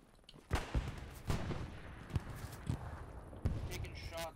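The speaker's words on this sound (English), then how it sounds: "Taking shots from the field. Yeah, it's a guy with an MP40 somewhere." Distant MP40 submachine gun fire in the World War II game Hell Let Loose comes from across a field as several sharp, faint shots at irregular intervals.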